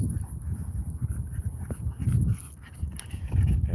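A dog pants heavily and rapidly, close by, in quick rhythmic breaths with slight rises in effort.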